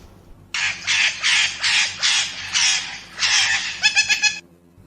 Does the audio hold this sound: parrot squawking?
yes